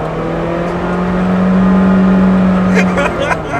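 A rental Nissan Versa pushed hard with traction control off, its engine revving high and steady in a loud sustained whine while the tires break loose, heard from inside the cabin, with brief voices near the end.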